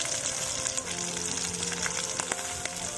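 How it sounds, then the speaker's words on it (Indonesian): Spices for a fish dish fry in hot oil, giving a loud, continuous crackling sizzle with scattered sharp pops throughout and no talk over it. "lagi menggoreng bumbu buat ikan"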